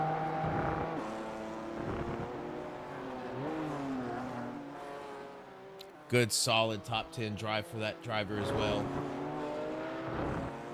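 Race cars, among them a red and blue BMW, run at Lime Rock during an AARS race, their engines droning steadily under commentary before a sharp burst of engine noise as a car passes close.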